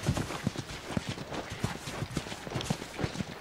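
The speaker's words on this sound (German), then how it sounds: "Ich hab hier Pferde. Sogar ganz schön viele." Horses in The Last of Us video game clop along in a steady walking rhythm, the repeated hoofbeats fairly close and even, with faint background ambience and no talk.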